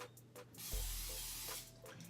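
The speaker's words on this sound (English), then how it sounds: "This is olive oil cooking spray" A close, steady hiss of an olive oil aerosol cooking spray coating an Instant Pot liner, lasting about a second, with faint background tones around it.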